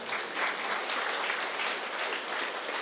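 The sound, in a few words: audience applause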